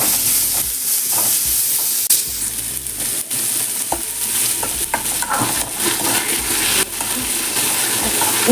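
Onions roasting in a hot pan until golden for a country chicken fry, a loud continuous sizzle and hiss with occasional stirring scrapes and clinks, no talk.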